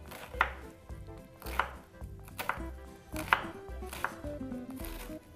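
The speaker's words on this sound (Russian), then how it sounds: "Вначале я нарежу мелкими кусочками лук." An onion is cut into small pieces with a knife, making a series of about seven evenly spaced, crisp chopping knocks against a board with no voices.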